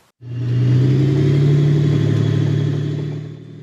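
A British Challenger 2 main battle tank engine starts up abruptly and runs at a loud, steady low rumble for a few seconds before easing off slightly at the end, with no voices.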